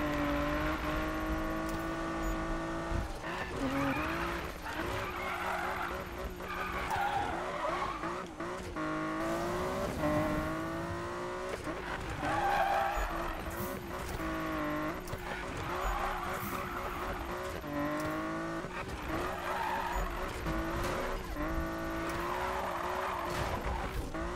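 A car races in Need for Speed, its engine revving steadily while tires squeal through repeated skids for the whole stretch, with someone talking over the continuous driving noise.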